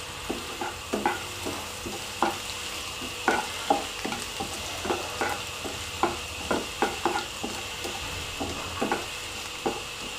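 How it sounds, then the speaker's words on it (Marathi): Bendki chillies frying in oil on medium heat in a pan for a Marathi cabbage kofta curry, a constant sizzle broken by regular crackling pops and the scrape of stirring, close and fairly loud, no talk. "ही बेंडकी मिरची पण टाकून घेऊत आहे हे बघा छान असं आपणाला हे तळून घ्यायचं आहे"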